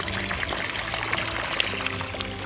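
Water gushing from a borewell pipe in a backyard vegetable garden, a steady pouring splash that continues without a break and without speech.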